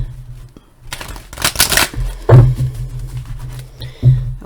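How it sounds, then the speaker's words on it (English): Tarot cards being shuffled by hand in repeated riffling bursts, loud and close, with a few sharper snaps as the deck is squared; no talking. "I'm going to actually shuffle this one more time."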